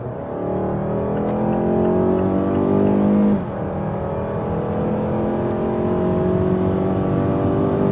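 A 2021 Mazda CX-5 with the 2.5 Skyactiv-G non-turbo engine accelerates hard in sport mode from about 60 km/h, its loud in-cabin engine note climbing steadily, dipping briefly at a gear shift, then rising again.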